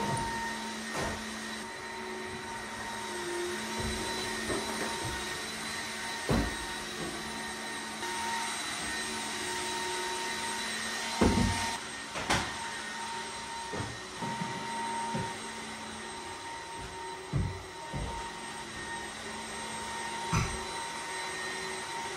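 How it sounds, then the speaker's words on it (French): Robot vacuum cleaners run through a house being cleaned, giving a steady whirring drone with a high whine that goes on without a break, dotted with occasional sharp clicks and bumps. "Si vous entendez un autre aspirateur dans le fond, c'est parce qu'il y a tous les aspirateurs robots qui tournent."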